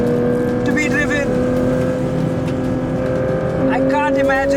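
A Porsche 911 GT3 RS on a coastal racetrack holds a loud, steady engine note that rises and falls slightly as it drives, with a few brief high tonal chirps over the constant roar.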